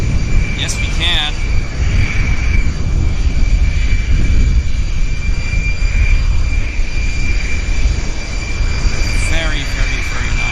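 A jet airliner departing Vancouver YVR airport bound for New York, a steady broad engine roar at loud, near-constant level throughout, with faint chirps on top.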